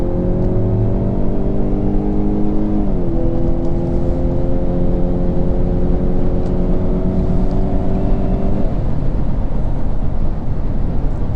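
A Ford Fusion Titanium sedan accelerates while merging onto a highway: a steady engine drone under heavy road and wind roar, its tone rising, dropping at a gear shift and rising again.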